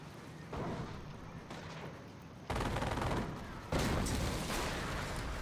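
An anti-tank gun firing in Company of Heroes during a 4v4 match, with heavy booming blasts stepping up in loudness over a dense battlefield din of other gunfire.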